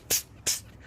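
A voice imitates Spider-Man's web spraying with two short, breathy hissing bursts, close and fairly loud, spaced about a third of a second apart.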